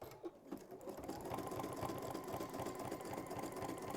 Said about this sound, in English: Now I'm going to sew past the pocket.